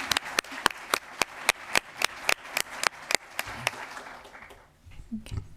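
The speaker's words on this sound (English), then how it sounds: "And let's give her a round of applause for being here tonight." A board meeting audience gives a short round of applause, sharp separate claps fading toward the end, with faint talk at the tail.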